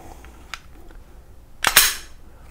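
A pistol slide racked by hand in a defensive firearms lesson: a light click, then a loud, sharp double metallic clack as the slide is pulled back and snaps forward, close up, no speech.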